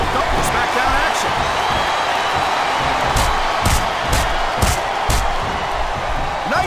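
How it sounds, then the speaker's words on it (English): Arena crowd in the wrestling game WWE SmackDown vs. Raw 2007 roaring steadily, with a dense wash of cheering broken by sharp thuds and slams from the ring action. "I can't remember the last time I saw a crowd this pumped up in SmackDown action."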